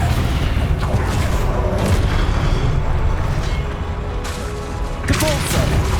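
Descendo spell impact in Hogwarts Legacy, a loud booming slam within constant game combat noise, with bursts and rumbling effects layered densely over the whole stretch.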